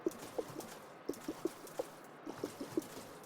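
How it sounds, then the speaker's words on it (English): Refuelling in the F1 Manager 2022 racing game gives a soft, fairly quiet run of rhythmic glugs, about a dozen short liquid gulps in uneven pulses, with no talk over them. "Can we listen to the fuel sound?"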